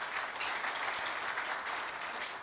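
An audience at a university staff retirement ceremony claps in steady, dense applause that fills the room evenly from start to finish without a break, with no voices rising above it.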